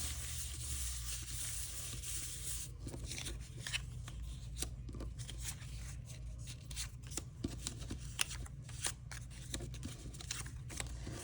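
A deck of cards is shuffled to mix it up at home, a soft papery riffle and rustle that runs for several seconds, quiet and close, with scattered light flicks and taps and no talk.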